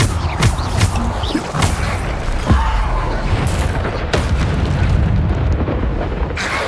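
Bombarda spell explosions in Hogwarts Legacy go off as a rapid series of loud booming blasts and crashes, several in quick succession amid constant combat noise.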